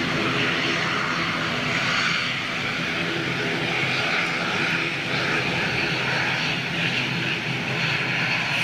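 An ATR 72 turboprop airliner drones steadily and loudly with a constant engine and propeller roar, heard nearby and continuing throughout without speech.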